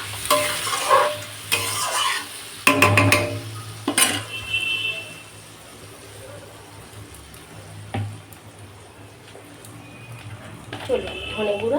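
Potatoes with tomato, ginger, coriander, chilli powder and green chillies stir-fried in a pan, with loud bursts of spatula scraping and clatter early on, then a quieter sizzle, and a voice talking briefly near the end.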